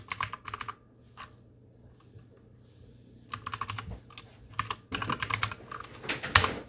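Computer keyboard typing while entering commands during Minecraft server setup on a Windows PC; quick bursts of close keystrokes separated by short pauses, clear and alone.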